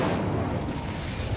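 An Incendio fire spell in the Hogwarts Legacy video game erupts as a short, dense burst of roaring flame, loud and close, with a rumbling low end throughout.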